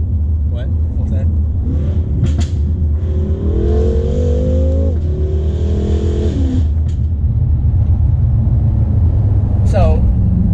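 A BMW F10 M5 heard from the cabin at wide open throttle in MDM mode, a deep steady drone rising in pitch for several seconds, with backfire pops and a voice talking over it.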